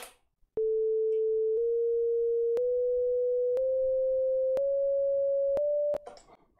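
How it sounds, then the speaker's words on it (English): Pure synthesized sine tones generated with Haskell climb upward through semitones, about six evenly timed one-second steps, each change marked by a tiny click, steady and loud before cutting off. "let's listen to the semitones"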